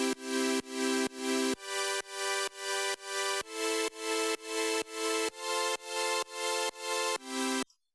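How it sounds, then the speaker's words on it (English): A 1-5-6-4 chord progression played as a steady series of sustained, evenly struck chords, each lasting about half a second, cycling through and ending cleanly. "is what's called a 1, 5, 6, 4 chord progression."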